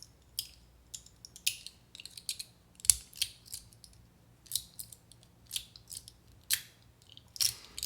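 A handheld fidget toy clicks mechanically at every turn, giving a string of short, crisp ratcheting clicks in an irregular rhythm, close and quiet against a near-silent background.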